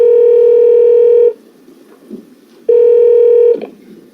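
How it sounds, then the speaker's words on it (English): A telephone dial tone sounds loud and steady for over a second, breaks off, then returns for a second stretch, with brief keypad and handling clicks in between as a call to a friend is placed during a quiz night. "I want to phone a friend."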